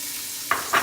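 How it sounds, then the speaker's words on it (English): Chopped onion landing in a hot pan for chicken cacciatore, two short bursts of sizzle and stirring at the end after near-silence, close and moderately loud. "Now let's start adding our vegetables. Let's start with a whole onion"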